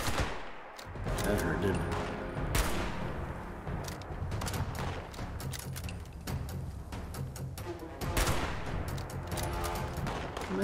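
Scorched enemies in Fallout 76 fire rapid, bursty gunfire that stays loud and close throughout, mixed with game music, while someone talks over the shooting.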